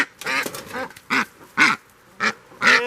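A duck in a backyard pen gives a series of loud, close nasal quacks, about five distinct calls spaced with short pauses, alone with no talk.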